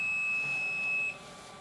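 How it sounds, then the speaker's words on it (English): A PAPR respirator alarm sounds a single steady, high-pitched electronic beep that holds for about a second before cutting off, fairly faint against a quiet room. "If this occurs, the PAPR will begin to alarm with a steady beep."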